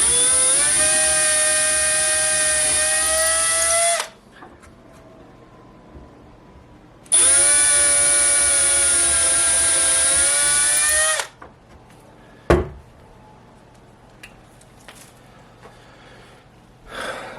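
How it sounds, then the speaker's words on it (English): A power drill boring starter holes straight down into a wooden dresser, two steady whining runs of about four seconds each, close and loud, followed by quieter handling noises and a sharp knock. "Just trying to drill straight down."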